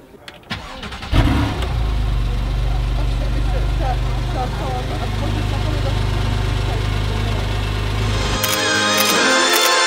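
A car engine turns over and settles into a steady, close idle with a low constant hum.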